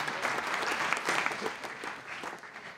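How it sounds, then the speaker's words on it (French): Audience applause at a round-table discussion, a steady wash of clapping from a room of listeners that holds for a few seconds and slowly thins toward the end. "je crois qu'on peut l'applaudir"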